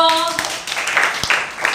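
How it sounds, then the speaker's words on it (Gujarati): Schoolchildren in a classroom clap for a classmate, a brief burst of many small hands patting quickly under a voice at the start. "તક્ષ માટે પેલા તાળી પાડો।"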